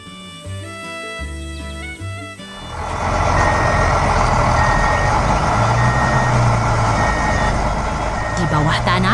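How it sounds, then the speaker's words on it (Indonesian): A cartoon yellow water truck speeds along, its loud engine rumble surging and holding steady after a stretch of reversing-style beeps and musical tones at the start. "truk air kuning melaju dengan cepat"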